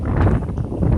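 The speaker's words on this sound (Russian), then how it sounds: "Вот это ветерок. Вот, смотрите, как дует." Strong wind blowing outdoors in Bendery, buffeting the microphone with a continuous low rumble and gusting roar over one second.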